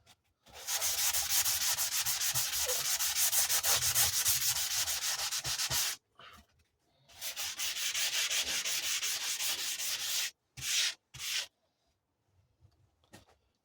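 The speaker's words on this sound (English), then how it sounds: "I'll keep sanding that by hand" Rusty old kukri blade being hand sanded, steady scratchy rubbing strokes in long continuous runs with a pause, then a few short bursts and quiet taps near the end.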